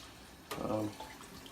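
Cold tap water flows at a gentle rate through a wort chiller during an all-grain IPA home brew, a brief soft gush starting abruptly and fading within a second, faint and close.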